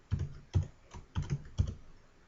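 Computer keyboard keys tapped at a steady, unhurried pace while a project name is entered, about five soft, close clicks with no voices.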